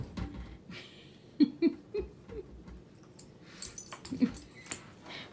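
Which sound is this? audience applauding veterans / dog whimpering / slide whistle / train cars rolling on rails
dog whimpering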